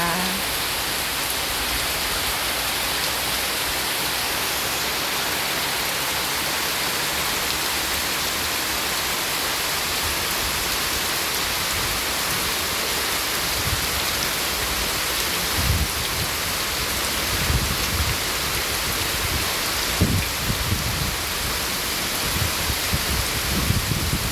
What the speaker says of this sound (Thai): เสียงฟ้าเสียงฝนนะคะ เสียงลมด้วย ลมก็มานะคะ